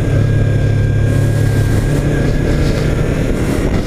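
A Yamaha R3 motorcycle pulls out of the pit box at the Interlagos circuit, its engine droning loud and close with a steady low rumble and no voices over it.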